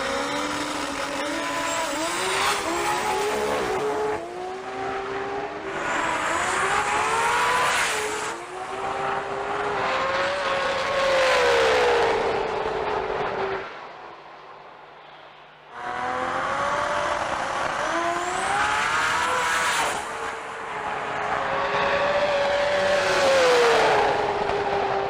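Pro Street GTR drag race cars at a sports compact drag racing meet in Brisbane, loud engines revving and accelerating hard in long rising sweeps, a short lull, then another roaring pass.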